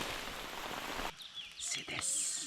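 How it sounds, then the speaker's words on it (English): Heavy rain pours in a forest as a dense, steady hiss for about a second, then cuts off abruptly, leaving a quieter scene with a few faint chirps and rustles. "Heavy rain again."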